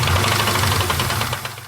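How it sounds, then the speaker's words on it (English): A Chevrolet C5 Corvette engine running shortly after a cold startup, a loud, close, steady mechanical drone with a rapid ticking, knocking texture over a low rumble, without any talk. "since the engine is already running, just let it run"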